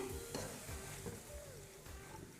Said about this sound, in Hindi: तो बस हम इसे इसी तरह से चलाते हुए भून लेते हैं।